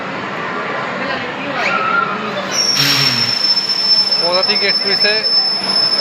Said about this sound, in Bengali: ট্রেন আসছে আমাদের